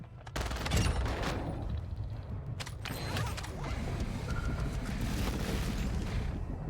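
Precision airstrike explosions and rapid gunfire in the video game Undead Blocks, dense booms and crackling shots layered continuously over several seconds at a fairly low level with no talking.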